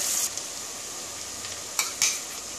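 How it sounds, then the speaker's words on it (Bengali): Ingredients lightly frying in a pan for chicken tehari, a steady soft sizzle with a few brief scrapes of a stirring spoon against the pan, no voices. "অল্প করে ভেজে নেব।"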